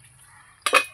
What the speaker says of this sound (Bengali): এই যে ঢাকনাটা আমি খুলে দেখবো একটু।